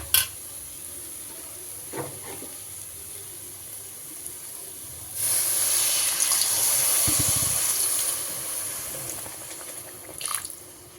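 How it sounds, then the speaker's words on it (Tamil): Water pours into a cooking pan for making noodles with a rushing gush lasting a few seconds, between quieter clinks and kitchen sounds. "இப்போ இதில் வந்து லைட்டாக தண்ணி சேர்த்துக்கலாம்."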